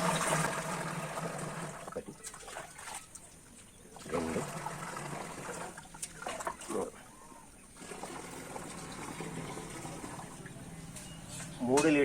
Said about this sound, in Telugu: ఒక 3 లీటర్ల వాటర్ పోస్తాను ఫ్రెండ్స్ ఈ స్ప్రేలో.